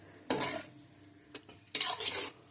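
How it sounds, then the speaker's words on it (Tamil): A spoon scrapes and stirs onion, ginger and garlic masala in a pan, two short scraping strokes with a light clink between them, close and clear. "இது கொஞ்சம் சிம்மிலேயே பார்த்து கலக்கி விடுங்க, அடி பிடிக்கக்கூடாது"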